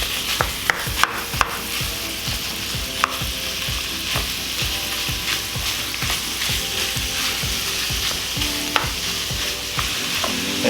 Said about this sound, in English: Let's go ahead and get our ground beef in there.